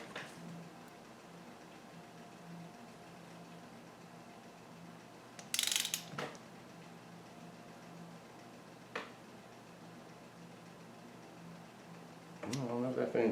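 A torque wrench set around 15 pounds ratchets on a 1971 Honda CB175 engine during assembly, giving quiet mechanical clicks with a sharper burst midway and a busier stretch of ratcheting near the end, with talk in between.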